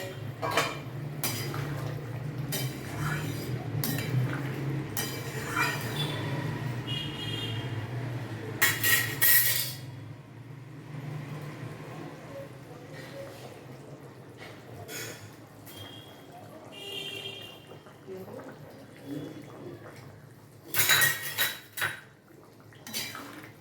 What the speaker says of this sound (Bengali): ঢাকনাটা খুলে আমি মাছগুলোকে দিয়ে দেবো